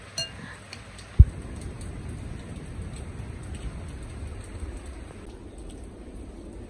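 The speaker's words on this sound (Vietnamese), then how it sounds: "Trời đang mưa." Steady rain falling and pattering on surfaces, continuous and moderately loud, with one sharp clink early on and faint household sounds in the background.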